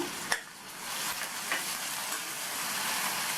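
Chopped tomato with curry leaves sautéing in a pan makes a soft, even sizzle, with one brief clink near the start and no talking.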